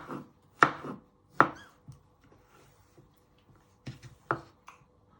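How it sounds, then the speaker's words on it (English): A sharp kitchen knife chops and slices through food on a cutting board while making chicken enchiladas: a few sharp, separate cuts spaced irregularly, close and crisp, with quiet pauses between. "So what I'm doing is chopping down the middle and finally slicing it."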